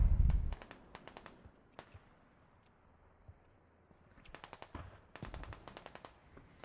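Mortar and gunfire in a military shooter game, a few sharp distant booms and scattered bursts of crackling shots, mostly faint with quiet gaps between, one heavier thump at the start.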